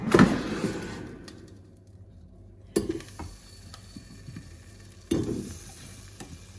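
Potatoes being laid into a preheated Ninja air fryer basket for fried wings with potatoes, three sharp clattering drops of pieces landing, each followed by a soft sizzle fading out, close and without talk.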